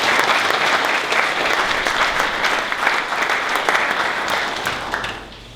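An audience at a senior school presentation day ceremony applauds its school leaders with steady, sustained clapping from start to finish that fades slightly at the very end.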